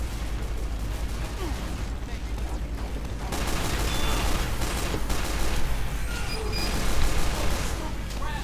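Rapid weapon fire from the Scout class in the video game Team Fortress 2, dense bursts of shots and impacts over game noise, continuous and fairly loud, with a player talking over it at times.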